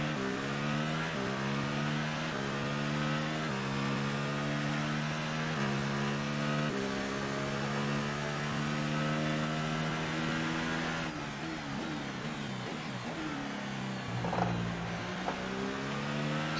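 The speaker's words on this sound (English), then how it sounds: "Also, this gearbox sounds very weird." Engine of an F1 car in F1 2018 racing gameplay at the Austrian Grand Prix, a steady high whine with stepping gear-shift tones repeating in even intervals, loud and continuous with no talk.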